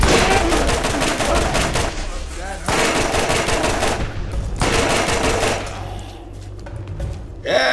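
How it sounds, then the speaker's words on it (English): A machine gun in Borderlands, built from basic parts with a modest fire rate, rattles off loud rapid bursts of automatic fire separated by brief pauses, up close and with no talking. "a machine gun."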